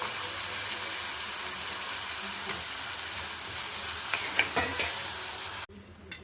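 Eggplant pieces frying in a hot pan with browned onions, ginger-garlic paste and turmeric: a loud, steady sizzle with scraping stir strokes near the end, then the sound abruptly drops away.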